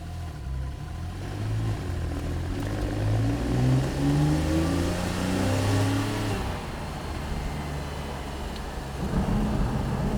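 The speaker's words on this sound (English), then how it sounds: "you feel that grunt and that beautifully designed exhaust system that they have" A 997.2-generation Porsche 911 Targa 4S engine and exhaust climb steadily under acceleration, the pitch rising through rising harmonics, easing at about six seconds, then building again near the end.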